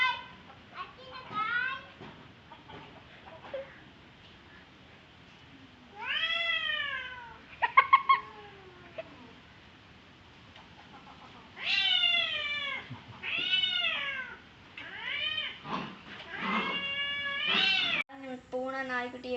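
Several cats meow repeatedly with rising and falling wails, some loud and close, others shorter, in bursts with pauses between, while children's voices are faintly audible in the background.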